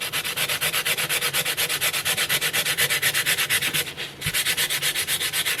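Sandpaper is rubbed lightly over a wooden cutting board in quick, steady back-and-forth strokes, close and loud, with a brief pause near the end before the strokes resume.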